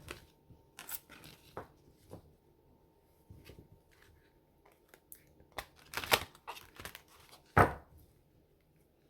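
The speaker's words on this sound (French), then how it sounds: "je vais bouger les cartes, ça va les mettre en désordre" Tarot cards shuffled and moved around by hand, producing soft, irregular riffles and papery slaps, quiet and close with scattered sharper bursts and no talking.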